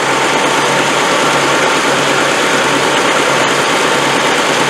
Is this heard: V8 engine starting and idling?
yes